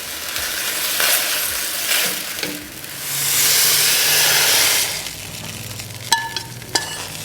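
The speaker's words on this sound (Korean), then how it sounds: "불린 당면을 넣은 다음에 그냥 볶는 게 아니라 물과 간장을 같이 넣고 볶아요." Soaked glass noodles stir-fried in a pan with water and soy sauce for a Korean holiday dish, giving steady close sizzling and hissing that swells into a loud steamy burst midway, with a few clinks of utensils near the end.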